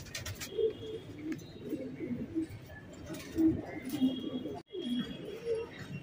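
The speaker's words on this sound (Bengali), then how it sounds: "এই কবুতর দুটো অনেক ভালো কবুতর" Racer and fancy high-flyer Giribaj pigeons coo over and over in a loft, low throaty calls overlapping close by, with faint background noise and a short dropout near the end.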